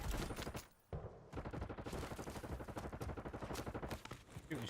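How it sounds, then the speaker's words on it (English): Rapid bursts of automatic gunfire from Call of Duty Warzone in Verdansk ring out loud and close, with a short lull near the start before continuous shooting resumes. "Shooting straight on your right."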